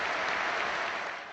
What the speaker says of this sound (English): Villa Park does the Queen proud with this minute's applause